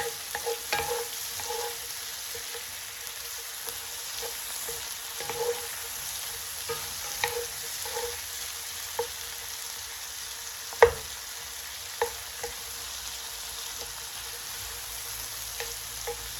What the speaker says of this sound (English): We're just going to let these cook down until the onions become translucent.